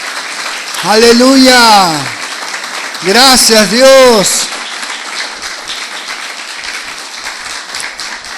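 A church congregation applauds during a Sunday sermon at a Spanish-language service. Steady clapping runs throughout under loud shouted voices of praise from the room.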